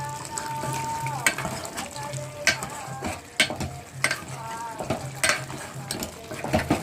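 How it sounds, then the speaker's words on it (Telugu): Chutney seasoned with coriander powder bubbles and fries gently in a pan on low heat, a soft steady sizzle broken by a few sharp clinks and scrapes of stirring. "ఇంకా బుడబుడ మరుగుతూ ఉంది కదా ఇంకా అలానే కొంచెం సిమ్లో పెట్టుకొని ఉంచుకుందాం"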